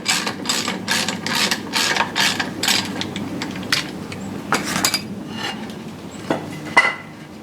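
Ratchet wrench loosening the propeller nut on a Yamaha 225 HPDI outboard, a rapid series of close, loud ratcheting clicks in short bursts, then a few scattered metallic clinks.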